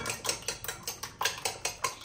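Eggs beaten with garlic and salt in a bowl, a utensil clicking against the dish in quick, steady strokes, about nine close, crisp hits over two seconds with no talking.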